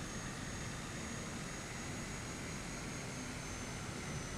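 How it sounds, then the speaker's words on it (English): A Cessna Caravan's engine in Flight Simulator 2020 drones as a constant, dense, even roar with a faint steady whine on top, unchanging throughout, with no talking. "It's a versatile airplane, it's a caravan."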